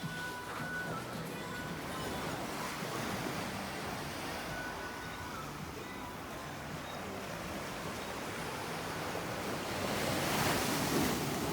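Ocean waves wash steadily onto the shore at night in Holetown, St. James, Barbados, a continuous close roar of surf with wind noise and a swelling wave near the end, no talking.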